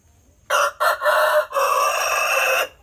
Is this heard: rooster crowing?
yes